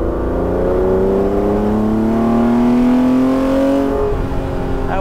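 The engine of a 1979 Ferrari 512 BB at wide open throttle, heard from inside the car, swells into a loud, rising roar that climbs steadily in pitch for about four seconds, then eases off as the revs drop.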